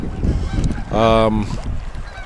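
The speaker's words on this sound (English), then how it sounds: "there's a conglomerate of gulls over here, ring-billed gulls" A single loud, harsh ring-billed gull call rings out over steady outdoor background noise on a river, with other faint rustling around it.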